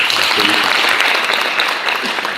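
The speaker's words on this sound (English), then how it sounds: "Give him a big round of applause." An audience gives a round of applause, a loud, dense burst of many hands clapping that holds steady and eases slightly toward the end, with faint voices underneath.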